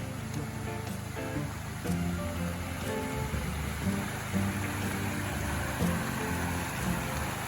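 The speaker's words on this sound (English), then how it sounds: "Nice creek running right off to the side of the campground" A creek flows beside a campground in George Washington National Forest, Virginia, a steady, close rush of running water that continues without a break, with other faint outdoor noise mixed into it and no talking.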